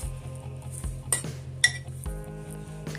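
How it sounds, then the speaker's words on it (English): A spoon folding seitan dough made with gluten flour in a bowl, soft scraping with a few sharp clinks of metal against the bowl as it turns, close and quiet over faint background music. "I'm using a folding motion and rotating the bowl whenever possible"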